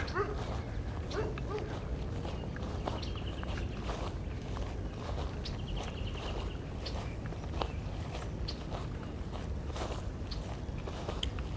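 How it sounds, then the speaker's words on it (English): Outdoors on former industrial lands in Toronto, a puppy barks and whimpers repeatedly from a short distance, short yips scattered over steady wind and ambient rumble. "Someone's puppy is upset that I am here."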